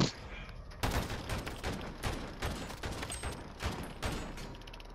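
Gunfire in a video game: repeated rapid bursts of shots, some rattling close together, fairly near and continuous throughout, with no talk.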